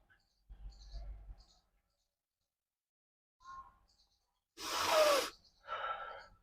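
Two sharp nasal sniffs drawing nasal drops in through the nose during a yogic nasya cleansing practice, close and breathy, the second followed by a shorter snort-like inhale, with quiet pauses between.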